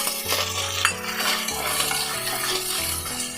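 Peas and ginger garlic paste stirred in a pot with a spoon, a few soft scrapes and clinks of metal against the pan, partly masked by steady melodic background music.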